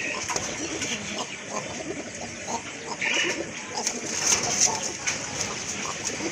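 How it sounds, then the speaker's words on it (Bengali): A pair of koka pigeons, male and female, cooing together at close range, a low steady rolling murmur over a busy, noisy background with no speech. "আরেক জোড়া কোকা কবুতর দেখেন কত সুন্দর ডাকে, দুইটা কবুতর ডাকে"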